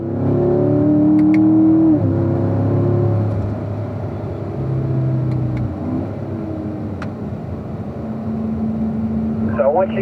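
Car accelerating out of a turn on a cone-marked driving course, a close engine drone rising and shifting in pitch, with a voice talking over it at times.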